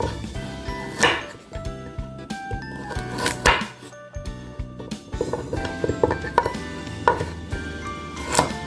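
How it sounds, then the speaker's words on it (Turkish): A knife chops peeled carrots on a board in quick irregular bursts of sharp close thuds, with faint kitchen clatter between them. "soyduğum havuçlarımı bir doğrayacağım"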